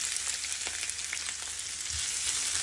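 Fenugreek seeds are stirred into hot oil in a pan, giving a dense, continuous sizzle with faint scraping of the spoon and small crackles, loud and close, with no voices.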